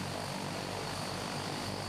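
Transall military transport aircraft propeller engines roar in a steady, loud, continuous drone with no pauses and no voices over it.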